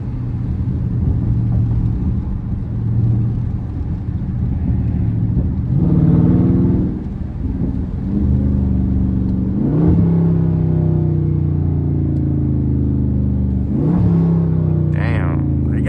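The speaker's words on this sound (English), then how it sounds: "Did y'all hear that downshift, bruh?" A Dodge Charger Scat Pack 392 drifts with its engine rumbling loudly inside the car, and several sharp rev blips mark downshifts between steady droning stretches. Voices are faintly present.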